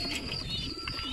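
Pigeons near a tractor give soft, low cooing calls in brief, quiet murmurs with faint background hum.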